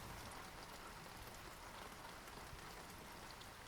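Warm rain falls steadily in a dense, even hiss of drops on surfaces, close and constant with no break and no voices.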